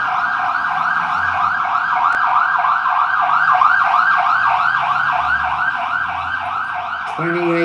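A wailing emergency vehicle siren cycles up and down steadily and loudly, with a brief low engine rumble joining near the end.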